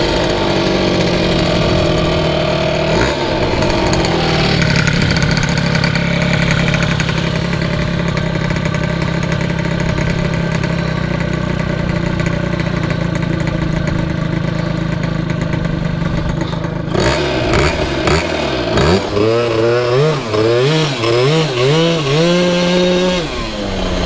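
A 120cc stroker Honda Elite scooter engine runs loud and close after a coil swap, buzzing steadily before revving in repeated rising and falling surges near the end.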